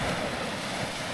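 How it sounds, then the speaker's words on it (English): Small ocean waves wash steadily onto a beach near a rocky shore, a continuous soft surf hiss with wind noise and no voices. "Sound of the ocean's always brilliant"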